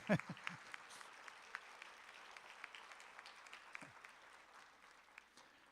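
Applause from a school concert audience for a 6th grade band after a winter band concert piece: faint, scattered clapping with a few sharper claps early, fading gradually, and a brief voice at the start.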